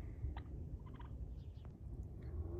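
A large farm turkey gobbles in short bursts outdoors, its rapid rattling calls repeating several times at moderate distance over a low background rumble.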